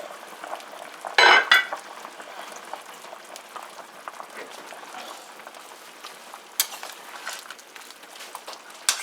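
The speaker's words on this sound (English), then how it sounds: "So this pot is bubbling away here, hear that?" A pot of Guyanese chicken foot soup bubbling and simmering steadily, with a brief metallic scrape of a utensil near the start and soft clinks later.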